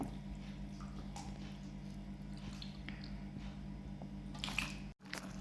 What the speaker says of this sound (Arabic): هنا بنصفيها من المي الباردة، بنتركها تتصفى مظبوط